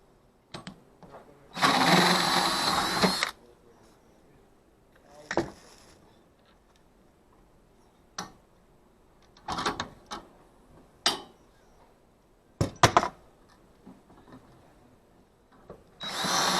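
A power tool loosening screws on a solar arch pole: a loud whirring burst of about 1.5 seconds, then several shorter, separate spins and clicks with pauses between them.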